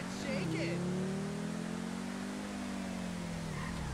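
A Pegassi Tempesta supercar in GTA V holds a steady, droning engine note heard from inside, the pitch dipping briefly near the start and again at the end, with a voice talking over it.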